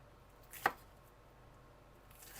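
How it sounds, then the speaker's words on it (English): A knife strikes an onion on a cutting board twice, two short sharp chops about two seconds apart against quiet room tone, close and clear. "we're going to dice this onion"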